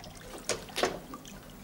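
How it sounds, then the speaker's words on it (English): Water trickles and splashes out of a drained hot water tank. The flow is faint and gurgling, with two short louder spurts close by and no talk. "What's this water running out of here?"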